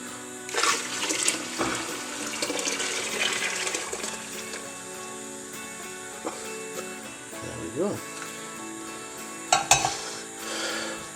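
Liquid poured into a home brew Irish stout mix in a kitchen, a splashing, trickling pour with some clinks and a few short bursts, with talk around it.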